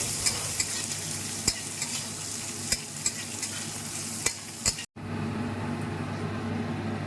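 Cashew nuts frying in a pan for a makhana recipe: a constant sizzle broken by sharp clicks of a utensil against the pan, then an abrupt drop to a quieter, softer hiss near the end.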